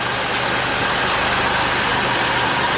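A Mercury Monterey engine runs at a steady idle with its A/C compressor working, making a loud, even, continuous drone with a low vibrating hum that stays constant throughout.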